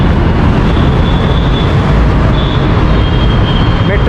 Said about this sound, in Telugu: metro station number Ameerpet